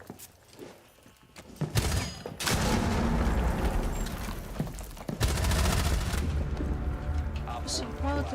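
Loud gunfire in Rainbow Six Siege: a heavy blast near two seconds, then a sustained rattle of shots, and another sharp burst around five seconds over a roaring background.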